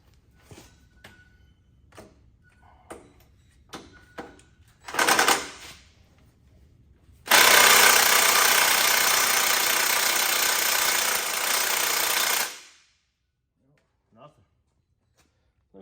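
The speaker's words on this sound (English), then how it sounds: "let's give this impact wrench a try" An impact wrench hammers at the rear axle bolts of a 2006 Dodge Ram diesel in one brief burst, then in a long loud burst of about five seconds. Clicks and tool handling come before it and a short sound follows.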